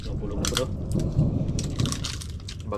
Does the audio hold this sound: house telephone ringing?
no